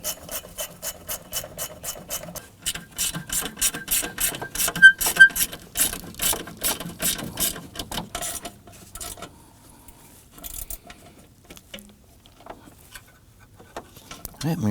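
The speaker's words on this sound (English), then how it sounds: "we're just going to go ahead and tighten this down" Bolts on a Nissan Murano 3.5L V6 radiator being tightened, heard as a steady, close train of rhythmic ratcheting clicks for several seconds, then thinning out to sparse taps and faint handling noise.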